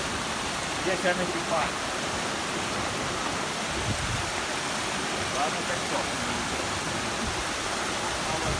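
Waterfall in Yosemite Park, California, heard as a steady, broad rushing roar of falling water that fills the whole clip, with people talking briefly over it.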